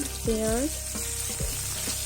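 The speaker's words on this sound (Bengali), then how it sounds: "পেঁয়াজগুলো একটু লাল লাল করে ভেজে নেব।" Onions sizzling in hot oil in a pan where shol fish was just fried, a steady close hiss with a brief rising tonal whine and a few soft knocks.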